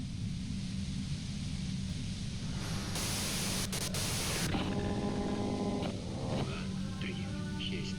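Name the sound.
white noise static in Disco Elysium video game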